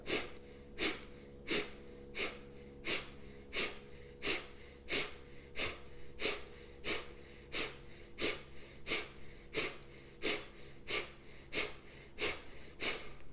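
Rapid, rhythmic forceful exhales through the nose during an energizing yoga breathing exercise, about seventeen sharp evenly spaced puffs, close and fairly quiet, with no talking.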